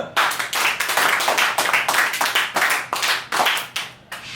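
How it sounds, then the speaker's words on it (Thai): A small group of classmates claps hands in a steady, fairly even rhythm, close and distinct individual claps repeating for about four seconds with no talking. "ปรบมือ"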